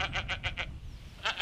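A human voice mimics a goat, giving a run of five quick nasal bleating pulses, a short pause, then two more, moderately quiet and close.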